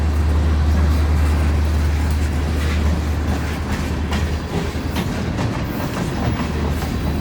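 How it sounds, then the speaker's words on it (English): A train pulled by three matching locomotives rolls past on a track undergoing restoration, a loud steady rumble with a low engine drone and rhythmic clattering of the cars on the rails. "Wow, that was cool. 3 matching locomotives."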